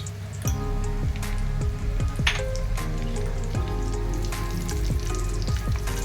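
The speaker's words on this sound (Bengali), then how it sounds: "কাজু বাদামটা সবসময় ঘিয়ের মধ্যে ভেজে নিলে একটু বেশি টেস্টি হয় খেতে" Cashews and raisins fry in ghee for a carrot halwa, a close, steady bubbling sizzle with a string of sharp clicks and scrapes from stirring, and no voices.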